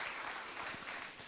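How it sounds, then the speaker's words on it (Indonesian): Congregation applauding during a church fasting prayer service, a dense steady clapping that holds evenly throughout with no voices over it. "Mari kita berikan tepuk tangan kita bagi Tuhan."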